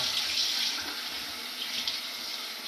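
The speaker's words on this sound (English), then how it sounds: "Get my cold water going." Cold water runs from a sink tap while someone rinses after shaving their head with a razor, a steady close hiss that continues without pause.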